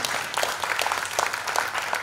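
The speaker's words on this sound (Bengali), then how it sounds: "আসুন পদাতিক নাট্য সংসদকে এমনি সাহসী একটা প্রযোজনা আজ সন্ধ্যায় আমাদের উপহার দেওয়ার জন্য জোরে একটা করতালি দিয়ে অভিবাদন।" Sustained audience applause for the Padatik Natya Sangsad drama troupe after a stage play, a dense, even wash of many hands clapping from a seated crowd with no voices over it.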